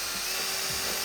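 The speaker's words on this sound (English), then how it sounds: "We're gonna move on to drilling." A power drill bores into a shower wall flange during installation of Delta Hycroft alcove shower walls, a short steady high whine heard alone.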